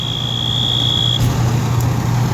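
A building's fire alarm gives a steady, piercing electronic tone that cuts off about halfway through, leaving a low rumbling background hum.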